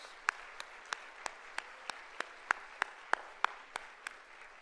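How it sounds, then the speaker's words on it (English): At a senior awards night, sharp claps sound at a steady, unhurried pace, about three per second, fairly close and evenly spaced, more like sparse rhythmic clapping than a full roaring ovation. "So everyone, if you could join me in giving Mr. Mark Smith a round of applause"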